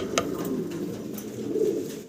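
Fancy helmet pigeons give a steady, low, throaty cooing murmur that swells near the end, close by with no talking.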